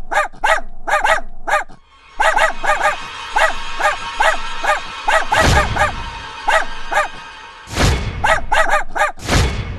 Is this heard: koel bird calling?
no